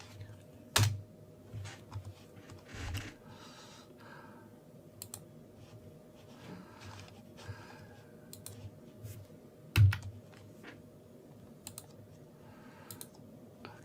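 A handful of scattered, quiet keypresses and clicks on a computer keyboard during a Kali Linux setup in VirtualBox, spread over a low steady hum with faint speech in the background.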